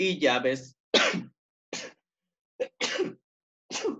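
A single loud sneeze bursts out in a classroom, followed by brief speech and a quick spoken response.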